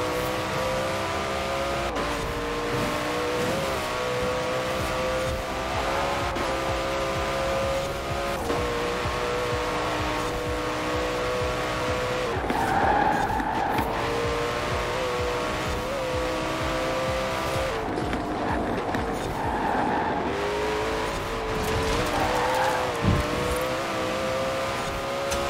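A car in the video game Forza Horizon 4 takes a corner slowly, its engine droning steadily at close range with a few short tire squeals, and no one talks.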